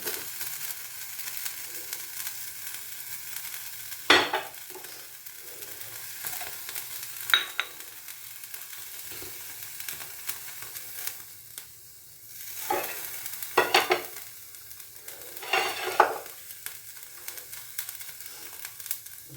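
Chicken kebabs in a pan on a gas stove sizzle softly with melted butter. Louder bursts of crackling and spitting swell up now and then, along with faint handling noises, and no one speaks.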